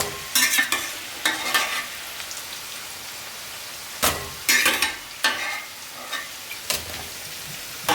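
French fries crackle and sizzle in hot oil in a home kitchen, with intermittent bursts of bubbling and stirring clatter over a low steady hiss, and no talking.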